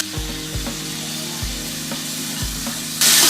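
Ground mint, green chili, ginger and garlic sauté in a pan with softened onion for green peas pulao, a steady close sizzle broken by several low spoon-scraping thumps, with a brief louder hiss at the end.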